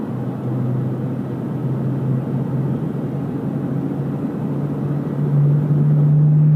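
A Singapore airliner passes at Sydney Airport on a windy night, a steady low jet rumble and roar that holds throughout and swells slightly louder toward the end, with no talk.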